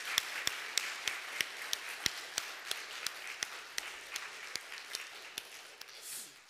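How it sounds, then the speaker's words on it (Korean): Church congregation applauding the choir during a Sunday worship service, a brisk run of sharp, evenly spaced claps that carries steadily and then thins out toward the end. "우리 성가대 위에서 또 우리 하나님께 영광의 박수 한번 올려드리겠습니다."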